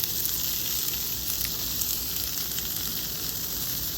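Butter sizzling on a hot Blackstone griddle, a steady, even hiss that holds at a constant level from start to finish with no talking.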